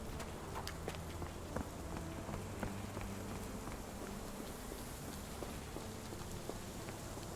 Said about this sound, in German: Dann sollten wir vielleicht mal auch raus aus dem Regen.